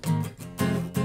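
An acoustic guitar strums three chords in quick succession, each bright attack ringing briefly before the next, close and fairly loud.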